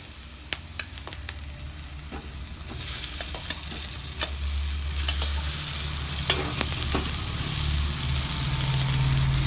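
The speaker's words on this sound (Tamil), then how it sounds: "இப்போ வெங்காயம் நல்லா வதங்கிடுச்சு" Onions sizzle and fry steadily in a pan, with scattered clicks and scrapes of stirring that grow busier toward the end.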